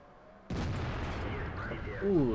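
A tank gun fires in World of Tanks with a sudden loud blast, followed by a sustained noisy rumble. A voice speaks faintly near the end.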